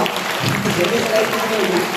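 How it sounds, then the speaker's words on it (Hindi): Applause from an audience at a taluka-level quiz competition for a young winner, a dense, loud wash of clapping mixed with voices and crowd noise. "अगर आप तो तालियां बजा दो, बच्चे की उम्र देखो,"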